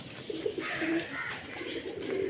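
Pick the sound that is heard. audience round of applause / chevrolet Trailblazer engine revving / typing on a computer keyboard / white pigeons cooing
white pigeons cooing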